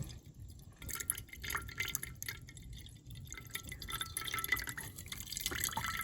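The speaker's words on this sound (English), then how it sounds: "we want to let that drain until we get gas coming out of there" Gasoline drains and drips out of a pull-start engine's carburetor, irregular close drips and small trickles splashing continuously, with no talk.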